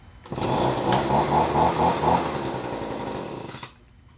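A small two-stroke engine on an Echo or Shindaiwa yard tool starts and runs steadily with a little throttle and no choke, a loud, buzzing, close whine that holds for about three seconds and then cuts off.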